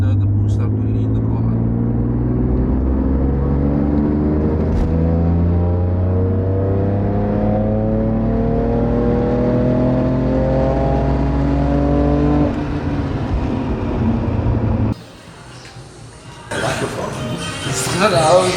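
A turbocharged BMW F80 M3 being prepped for drag racing pulls hard on a road run, its engine note climbing through repeated rising sweeps before the revs drop away and a rougher, noisier passage follows near the end.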